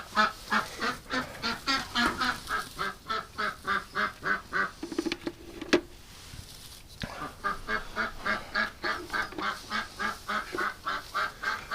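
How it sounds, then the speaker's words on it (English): Ducks and geese at a homestead nesting area quack and honk in a fast, rhythmic chorus of repeated calls, close and loud, with a brief lull midway before the calling resumes. "Oh, we got another duck in the back."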